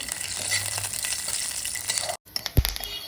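Peanuts and curry leaves crackling in hot oil in a tempering pan, a dense close sizzle that cuts out briefly and then returns with a sharp pop and clatter.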